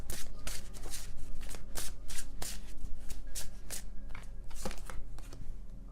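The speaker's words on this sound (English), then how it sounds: "I don't look at the deck while I shuffle." A deck of tarot cards is shuffled by hand continuously, with rapid, crisp riffling slaps and card flicks close up, steady and fairly quiet throughout, with no talking.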